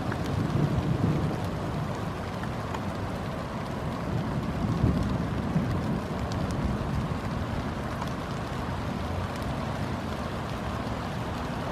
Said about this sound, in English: Do you hear the thunderstorm?